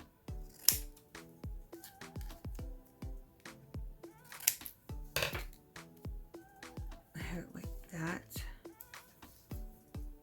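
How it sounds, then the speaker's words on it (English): Scissors snipping through material for a favor-box craft, a run of short, crisp cuts in an uneven rhythm, fairly quiet and close, with speech between some of the snips. "I'm going to cut some of this off."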